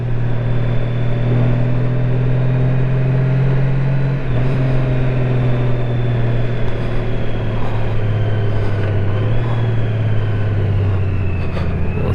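A Honda Goldwing DCT motorcycle is ridden in sport mode with a loud, steady engine drone. Wind noise runs throughout, and a brief shift in pitch comes partway through.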